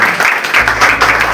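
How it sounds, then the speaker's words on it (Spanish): A church congregation breaks into brisk applause during a Spanish-language service, loud and close, a dense burst of clapping with a low hum beneath. "Den un aplauso al Señor."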